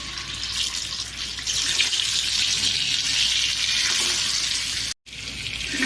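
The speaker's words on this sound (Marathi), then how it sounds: "बॉईल अंडा फ्राय करून घेऊया" Boiled eggs fry in hot oil spiced with turmeric, red chilli powder and salt, a loud, steady hissing sizzle that runs continuously and cuts out for an instant near the end.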